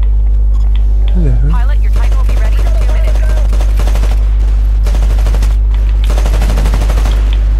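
Titanfall gameplay with loud automatic gunfire in rapid bursts, ending in a long sustained volley, over a constant low electronic hum.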